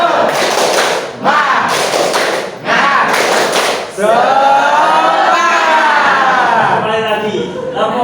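A class group performs a rhythmic tepuk semangat clap routine, with three loud, close bursts of clapping in quick succession. Voices then chant and talk together.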